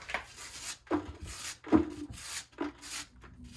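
Putty knife smoothing hydraulic cement on a flat surface, a series of soft scraping strokes in an uneven rhythm, close and quiet, with no voices.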